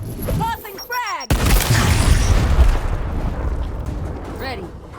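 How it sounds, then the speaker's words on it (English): A frag grenade detonates in Gears Tactics with a loud, close boom that rolls into a long rumbling decay, preceded by brief voices and game chatter. "Tossing frag!"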